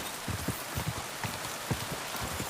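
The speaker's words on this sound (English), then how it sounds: "Oh, we got rain again." Rain falling in Kingdom Come: Deliverance 2, a steady soft hiss under a rhythmic clip-clop of horse hooves while riding across a field.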